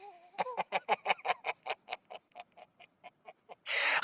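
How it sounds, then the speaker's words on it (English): Oars rowing on the river Styx come as a series of rhythmic knocking strokes that start strong, then slow and fade, ending in a sudden burst of rushing noise. "The sound you heard were his oars."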